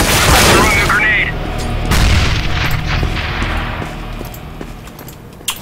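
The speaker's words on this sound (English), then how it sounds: "I'm throwing a grenade." Grenade explosion in CS:GO on the Office map, one loud close boom with a crack, followed by a second blast and a long fading rumble; a voice speaks over it.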